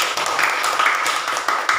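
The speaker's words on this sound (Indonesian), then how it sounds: "Tepuk tangan buat dia" Children clapping together in a classroom, a dense round of quick overlapping claps that stays fairly loud throughout.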